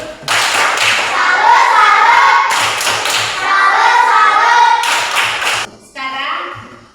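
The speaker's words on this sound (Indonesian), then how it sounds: "tepuk salut untuk kelompok 4" A primary classroom gives a rhythmic patterned clap cheer for a student group, bursts of clapping and tapping in repeated beats mixed with children's voices chanting along, pausing briefly between rounds.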